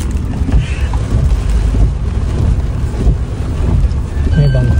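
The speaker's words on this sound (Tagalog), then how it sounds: "May bangka pa oh." Boat motoring across open water in Japan, a steady low engine rumble with wind buffeting the microphone throughout, continuous and fairly loud.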